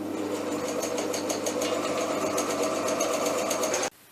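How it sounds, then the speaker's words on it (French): A sewing machine runs steadily for about four seconds, stitching the dorsal fin of a fabric mermaid tail with a close, even mechanical whir and rapid needle chatter, then stops abruptly. "Tout comme pour la queue, on va coudre la nageoire dorsale"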